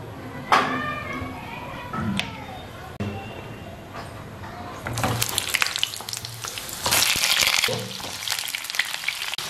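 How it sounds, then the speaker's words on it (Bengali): Pointed gourd frying in refined oil in a frying pan, a steady close sizzle that swells louder partway through, with clinks of stirring and voices in the background. "তো পটল দেবে তেলের ভালো ফ্রাই করবা,"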